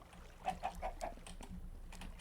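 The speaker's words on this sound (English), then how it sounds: "So here, little chicken," A Minecraft chicken clucking, a quick run of four faint, evenly spaced clucks followed by a couple of softer ones.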